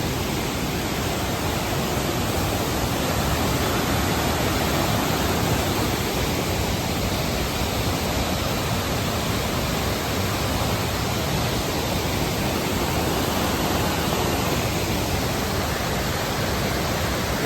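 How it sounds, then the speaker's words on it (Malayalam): Waterfall roaring in a steady, dense broadband rush that stays loud and unbroken throughout, close by, with no voices. "ശരിയായ വെള്ളച്ചാട്ടം"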